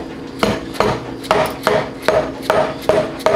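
Light hammer taps seating a turbo part on a 2005 Ford F250 with the 6.0L Powerstroke diesel, about eight evenly spaced metallic knocks, close and crisp, with no talking.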